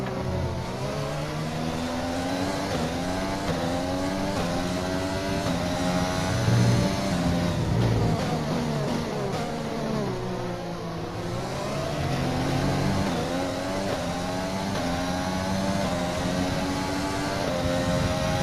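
A race car engine in a racing video game's driver career mode revs up and down through gear changes, rising and falling pitch sweeps repeating over a steady drone, fairly close with no talk.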